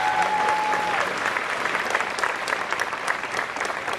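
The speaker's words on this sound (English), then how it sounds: "Let's give them a round of applause," Sustained applause from a commencement ceremony crowd fills the hall steadily for several seconds, loud and dense with no talk over it.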